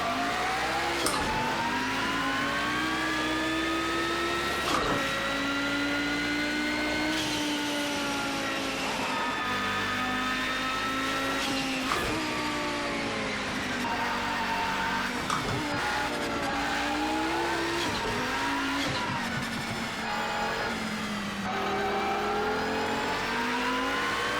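Audi Quattro IMSA GTO race car in Project Cars 2 at the Nordschleife, its engine roaring steadily throughout with rising and falling revs through corners and gear changes, loud and continuous with no talk.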